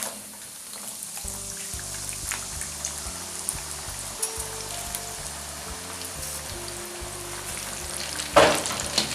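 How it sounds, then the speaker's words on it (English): Flour-coated peanuts fry gently in oil on low heat, a soft steady sizzle with occasional stirring clicks, over background music, and a brief louder scrape near the end. "So you must fry on a very low heat."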